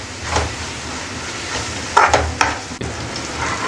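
Ginger garlic paste with turmeric fries in hot oil with a soft, steady sizzle, with a couple of sharper spatula scrapes and knocks against the pan partway through.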